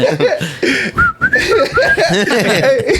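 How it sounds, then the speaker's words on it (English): A person whistles a short, bright rising tune up close, mixed with chuckling and laughter from others around. "Whistling."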